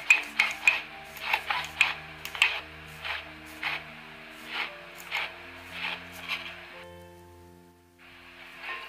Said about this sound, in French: Je rajoute aussi du sel et du poivre du Moulin.